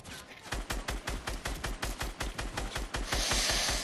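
Rapid bursts of gunfire from a Fortnite battle royale match crack out in a steady, evenly spaced string of loud shots that run across the whole moment, rising at the end into a denser, noisier volley.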